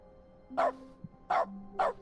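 Dog-bark sound effects stand in for keyboard key presses in the video game The Stanley Parable: three short, sharp barks spaced about half a second apart, separated by faint tones and quiet gaps.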